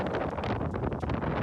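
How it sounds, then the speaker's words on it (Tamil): Strong gusting wind buffets the microphone in a continuous broadband roar, close and loud, with no talk. "காத்து பிரம்மாண்டமான காத்து."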